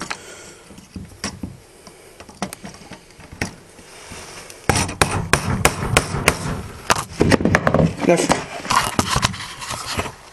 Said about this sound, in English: use our screwdriver and a hammer to try to take off this piece